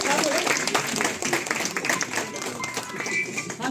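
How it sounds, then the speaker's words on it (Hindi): A crowd at a school inspector's retirement event breaks into dense applause for her family, with claps and taps running continuously and voices mixed in underneath. "एक बार जोरदार तालियां बजा दीजिए परिवार के लिए।"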